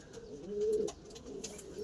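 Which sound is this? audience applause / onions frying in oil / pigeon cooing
pigeon cooing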